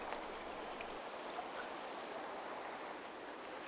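Floodwater pouring down a hillside after a typhoon, carving a new channel and rushing like a waterfall: a dense, continuous roar of running water with no voices.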